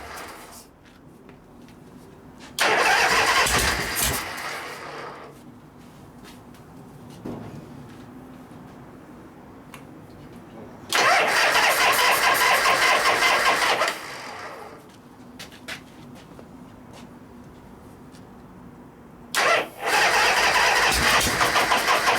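A 1973 Harley-Davidson FX 74ci Shovelhead Super Glide engine cranks on its electric starter in three separate bursts of a few seconds each, loud and near, with quiet gaps between them and no catch or run.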